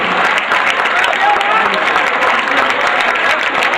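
Audience applause at an Urdu poetry mushaira in Wardha, loud and dense clapping from a large crowd, continuous and close with a busy, roomy wash.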